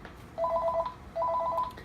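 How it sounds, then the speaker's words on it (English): Two short electronic rings from a cordless home phone in quick succession, a warbling two-tone trill, heard close over a quiet room hum. "we're just gonna press this, and so the phone's ringing"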